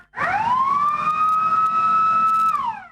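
A fire engine siren wails loud and close as a fire brigade sets out for a stubble fire at an abandoned farm, one steady rising tone held for over two seconds before dropping away, with no talk over it.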